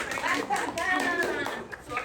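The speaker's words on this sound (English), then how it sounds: "Okay, everybody clap for Arab." Classroom students clapping for a classmate during an English speaking practice game, several short bursts of claps, with children's voices and talk mixed in throughout.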